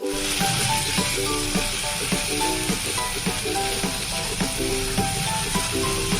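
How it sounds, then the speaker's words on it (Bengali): Mustard and peanut paste fries in oil for a pabda fish curry, giving a loud, steady sizzle with regular scraping and stirring strokes throughout. "পেস্টটাকে দেওয়ার পরেও আমি 2 মিনিট খুব ভালোভাবে কষিয়ে নিয়েছি।"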